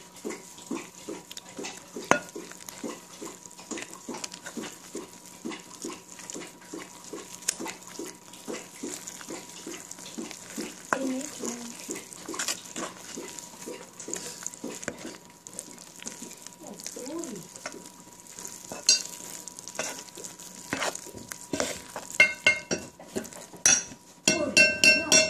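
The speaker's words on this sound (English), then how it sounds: "And stir this together." Flour and liquid being stirred together by hand into pot bread dough, giving a steady run of soft scraping and clinking strokes against the bowl, close and moderately quiet, with no talking.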